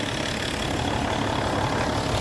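A steady, rumbling engine runs continuously at close range, a constant low drone with no voices over it.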